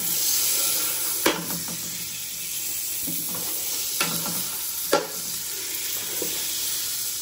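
Butter dropped into a very hot pan sizzles with a steady, close frying hiss, punctuated by a few sharp crackles and spatters, with no talking.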